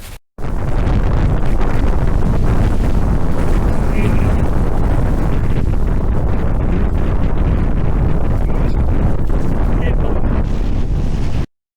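Strong wind roars steadily across an exposed mountain summit, buffeting the microphone without pause for the whole stretch and drowning out all other sound.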